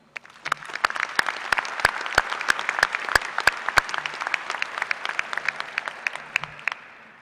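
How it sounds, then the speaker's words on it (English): Audience at a spring agriculture college commencement ceremony applauding the graduates, a dense sustained wash of clapping with some sharp individual claps standing out, steady throughout before tapering slightly at the end. "Please join me in a round of applause."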